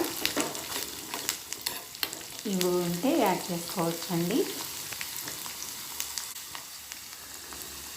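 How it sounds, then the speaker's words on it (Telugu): Curry leaves and coriander stir-fry in a pan while making Palnadu-style gongura chutney, a soft sizzle with scraping stirs under a short spoken remark. "అందులోకి కొంచెం కరివేపాకు కొంచెం కొత్తిమీరని వేసుకోవాలండి వేసుకొని ఒకసారి కలిపేసుకున్న తర్వాత"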